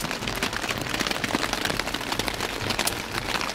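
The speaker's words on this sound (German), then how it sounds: "Das sind riesige Hagelkörner." Large hailstones pelt a tent in a dense, continuous patter of hard impacts, loud and close, with no talking.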